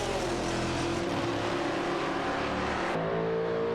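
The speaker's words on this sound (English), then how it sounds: "Bobardo and Surianbot are on the move, overtaking for cars to secure the 14th spot" Race cars in a video game roar past in a dense, continuous engine wash, one pass cutting off sharply near the end, loud and close with no talk.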